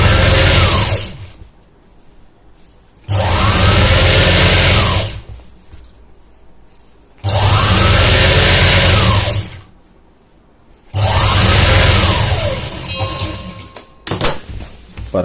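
Sewing machine stitching chudithar fabric, running in three loud, steady bursts of a couple of seconds each, separated by pauses with faint handling noises, and a short rattly burst at the end.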